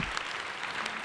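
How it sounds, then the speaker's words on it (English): An audience at a legislative preview event with a governor gives a brief burst of steady, even applause from a roomful of people. "Let's give him a round of applause."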